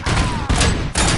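A gun in the Robocop Rogue City video game fires three loud, close bursts in quick succession, each a dense rattling roar with hardly a gap between them.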